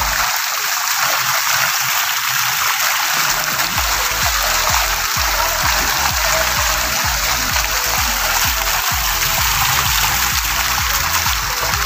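A waterfall in Davao roars in a loud, continuous broadband rush close by, with faint low splashing and rumbling running beneath it throughout.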